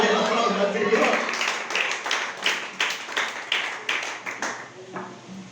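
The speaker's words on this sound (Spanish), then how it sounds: "Dale la aplauso al Señor." A church congregation claps in a steady, rhythmic beat that fades toward the end, with voices mixed in over the clapping.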